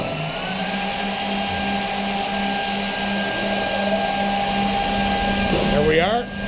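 A Fravol edge banding machine runs with a loud, steady industrial whir and hum while a narrow part feeds through, and a brief rising mechanical whine comes near the end.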